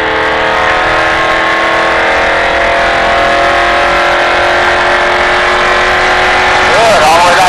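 A NASCAR race car on a Las Vegas track holds a loud, sustained engine drone at steady revs, with the pitch rising briefly near the end. A voice talks over it throughout.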